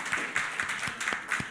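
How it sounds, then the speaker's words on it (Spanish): A church congregation at a Sunday service claps in a quick, even rhythm, the soft regular beats rising and falling at a moderate distance. "Demos un aplauso al Señor."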